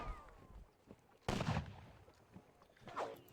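Musket gunfire in a Napoleonic wargame battle, one short burst of volley fire at mid-distance that quickly fades into quiet ambient background.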